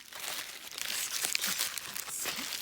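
Bubble wrap crinkles and crumples close up as vintage china is unwrapped, a steady dense rustle with a few sharper crunches and tearing sounds, no talking.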